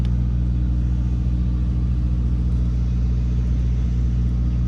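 A 1968 Pontiac Firebird engine idles smoothly and steadily nearby, a continuous low rumble with an electric cooling fan alongside, with no voices.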